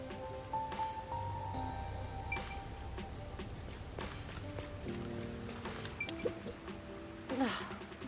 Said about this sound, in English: I really hate the rain